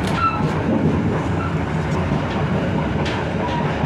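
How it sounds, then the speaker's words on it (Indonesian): A local passenger train in Indonesia rumbles steadily past at close range at a station, a continuous loud rolling roar with faint wheel clatter and brief high squeals. "Ini kereta api lokal."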